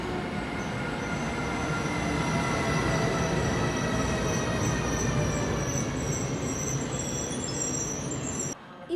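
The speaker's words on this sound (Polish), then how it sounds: "Pociąg, który jedzie do Krakowa w dniu dzisiejszym jedzie planowo, a zapewne prowadzi e, Odrę, czarna lokomotywa Vectrona" A passenger train bound for Kraków, hauled by a black Vectron electric locomotive at a station in Gliwice, rumbling steadily with a continuous droning hum and faint high wheel squeal, loud and close throughout before briefly cutting out.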